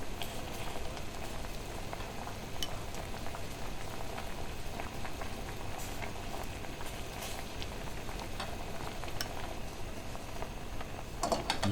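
Marinade liquid containing wine boils in a pot on a stove, a faint, steady bubbling and gurgling with occasional small pops, continuous and alone without talk.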